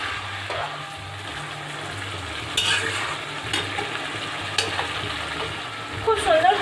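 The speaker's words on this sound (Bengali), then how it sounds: "আবারও খুন্তি করে খুব সুন্দরভাবে মিশিয়ে নেব।" A spatula scraping and stirring marinated chicken in a pan for restaurant-style chicken dum biryani, with a low sizzle underneath and a few sharper clinks of utensil against the pan.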